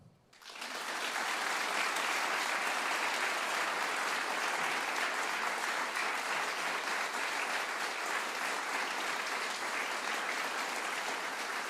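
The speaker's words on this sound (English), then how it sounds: "Okay, so first thing I want you to do is applaud." Studio audience bursting into applause on cue at a live radio show taping, a sudden onset that settles into a dense, sustained roar of clapping filling the whole stretch without letting up.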